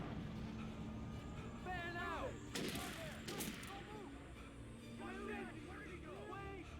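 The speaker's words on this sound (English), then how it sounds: "Why is everybody shooting at me?" Gunfire aimed at the player in the video game Alan Wake, a few loud broadband shots in quick succession over game ambience, with speech-like voices heard around them.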